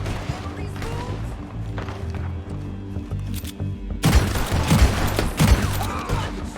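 Gunfire in the Red Dead Redemption 2 Western shootout, a burst of loud, close shots and thuds cutting in over a steady background of music and ambience, several sharp reports in quick succession.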